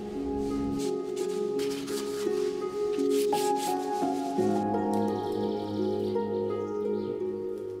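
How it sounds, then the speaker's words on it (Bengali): A window frame being rubbed down by hand to prepare it for glue and a rubber seal, a steady, close scraping friction that runs without a break under a low background hum. "এখানে রাবার লাগানোর আগে আঠা যখন লাগাবো তার আগে আমরা এখানে ঘষে নেব"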